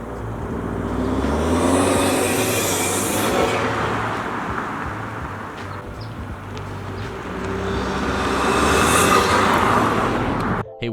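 A 2016-2021 Honda Civic 1.5T with a DC Sports cold air intake driving along, a steady broad engine and road rumble that swells and eases over the run.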